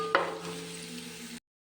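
Onions with crushed cardamom fry in oil for Kannur-style chicken biryani: a steady, close sizzle with a brief stirring clatter at the start, cut off abruptly.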